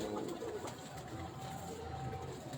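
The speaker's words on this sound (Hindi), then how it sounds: "बहुत अच्छे अच्छे ब्रीडर कबूतर पड़े हुए हैं" Breeder pigeons coo softly at a distance in a low, steady murmur, faint and continuous with no voices over them.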